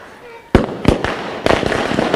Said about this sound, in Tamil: பட்டாசு வெடித்து இந்த தீபாவளியை நாம் இனிமையாக கொண்டாடலாம்